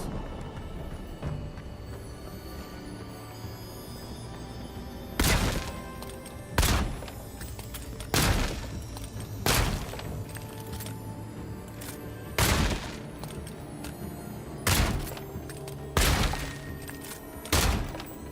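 Thrown grenades exploding in the fantasy game Avowed, a series of loud, sharp blasts roughly every one to two seconds over a steady ambient background bed.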